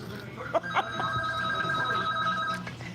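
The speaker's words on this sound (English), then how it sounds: "Hear that phone ringing, folks?" A telephone bell ringing in a room, a sustained electronic trill that repeats across the clip, with a couple of knocks and low background noise, no talk.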